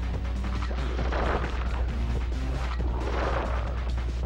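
A boss character's guns fire in the Sly Cooper video game, a dense, continuous barrage of booming, crackling shots that blends into busy game sound throughout.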